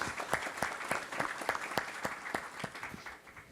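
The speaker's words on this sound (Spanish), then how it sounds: "Por favor, un aplauso para este panel de lujo que nos acompañan esta mañana." Audience clapping for a panel of speakers at a morning bioeconomy conference in Peru, a moderate, steady round of applause with distinct individual claps, fading slightly toward the end.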